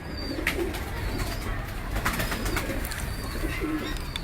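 Soft, low pigeon coos repeat over a steady background hum, moderately close, with a few faint chirps mixed in.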